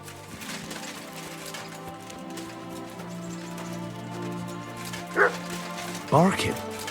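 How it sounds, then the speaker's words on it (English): A dog in the video game Kingdom Come: Deliverance II gives a couple of short yips and whimpering barks near the end, heard over quiet ambient game sound. "Barking."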